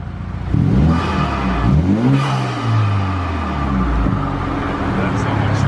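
A BMW 228i engine with an Injen aftermarket intake revs hard several times close by, rising and falling in loud bursts over a steady idle rumble.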